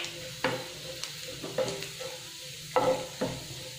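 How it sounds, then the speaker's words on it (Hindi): Cumin seeds fry in hot oil in a kadhai with a soft, crackling sizzle, broken by several sharp stirring clinks and scrapes of a spoon against the metal. "इसमें हम डालेंगे जीरा और इसे भून लेंगे हम"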